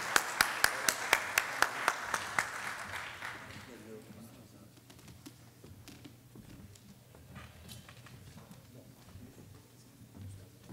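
Audience applause at a panel session of a mining fair opens with a run of sharp, evenly spaced claps that swell into fuller clapping, then fades into a murmuring room with scattered claps and movement.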